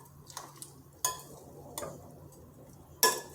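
Cabbage being stirred in a pan on a bus kitchen stove, with a few sharp utensil scrapes and clinks against the pan over a quiet low hum, spaced irregularly.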